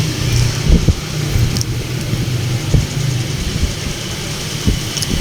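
Motorcycle engine during a ride through light traffic on a hot day, a steady mid-pitched hum with uneven rumbles and small surges, heard up close and continuous with no voices.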